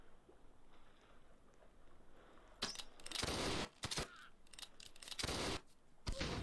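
Heavy cannon fire in a naval duel video game, several loud booming blasts in irregular bursts after a quiet start, close and forceful with no talking.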